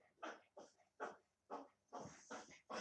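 A dog snorting and sneezing in a rhythmic series of short, sharp nasal bursts, fairly faint and close, with no talking.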